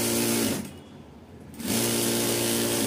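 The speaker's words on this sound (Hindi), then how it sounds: "ये सीधी जो है हम सिलाई लगाएंगे" A sewing machine runs a straight seam on a katori blouse, its steady close whirring motor pausing for about a second midway before resuming at an even pace.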